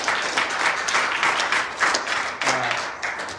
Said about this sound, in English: Give the Lord a hand clap, everyone.